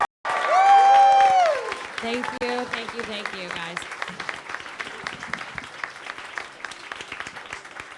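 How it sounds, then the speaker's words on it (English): A large crowd gives a loud round of applause with cheering at an Owl House Requiem Q&A event, swelling at first then continuing as steady clapping while a person speaks over it. "can we give one big round of applause for all the amazing people at Requiem"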